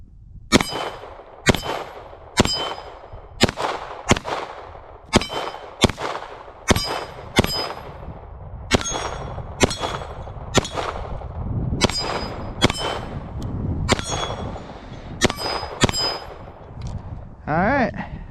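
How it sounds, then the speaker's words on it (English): Rapid gunshots from a Canik Mete SFX pistol each ring off an aluminum bowling pin target with a sharp metallic clang, about eighteen evenly paced shots close by and loud. "let's shoot the aluminum now"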